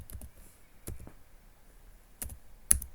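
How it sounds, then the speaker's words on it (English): Sporadic keystroke clicks on a computer keyboard at a lab workstation, a few quick taps in short bursts separated by quiet gaps, close and fairly faint. "and I am typing"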